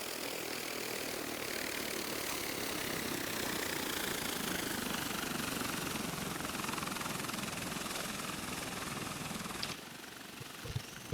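An Osprey tiltrotor aircraft passes by in a flight simulator game, a continuous loud rotor and engine roar that holds steady throughout with a slight change near the end.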